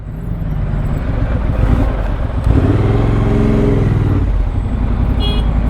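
A motorcycle being ridden gives a loud, close engine drone that rises in pitch as it revs up partway through, with wind noise and no talking.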